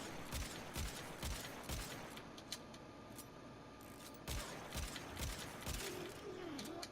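Euphona Prime secondary weapon shots in the video game Warframe: a series of heavy, evenly spaced reports with mechanical clanks between them, moderately loud against a busy game background.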